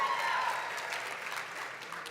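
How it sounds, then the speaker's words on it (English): A political conference audience claps for a speaker, a short burst of steady crowd applause that fades slightly over two seconds. "Absolutely, you can clap for Louisiana"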